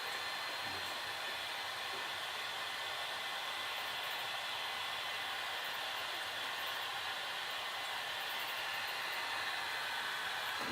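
A hot air blower runs continuously while reheating the screen adhesive on a Samsung Galaxy Note 2, giving a steady, close, hissing rush of air with no pauses.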